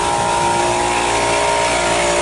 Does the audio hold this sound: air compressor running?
yes